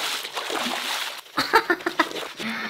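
Water splashes and sloshes loudly as someone scrubs something very dirty with a lot of water, in a short sequence of irregular, close splashes.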